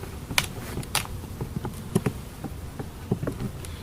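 Honey bees hum faintly at an opened colony while the beekeeper smokes them before removing honey, a low steady drone broken by scattered clicks and taps of frames being handled nearby.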